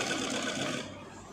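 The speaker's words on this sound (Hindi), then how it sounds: "यहाँ से आधा इंच पर सिलाई लगा लेंगे इसकी" A sewing machine stitches cloth for a small night dress in a quick, rhythmic burst of needle strokes up close, easing off near the end of the short run.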